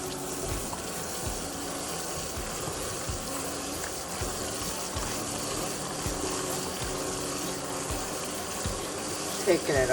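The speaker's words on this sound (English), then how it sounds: "And you rinse it in cold water." Running water splashes and gushes steadily from a tap into a basin as lye-treated corn is rinsed in cold water, with occasional clunks and sloshing close by.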